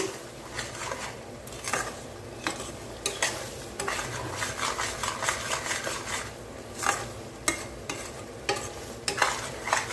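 Curry leaves and mint sauté with salt in a pan for thokku: a continuous close sizzle broken by repeated sharp spatula scrapes and stirring strokes against the metal.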